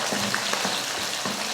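Whole garlic cloves sauté in a pan for a taro-root tamarind curry, giving a brief, moderate frying crackle with soft irregular pops, heard alone.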